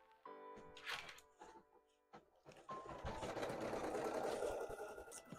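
An embroidery machine stitches in short bursts of rapid mechanical chatter, starting and stopping before settling into a steady run, faint and with some background clatter.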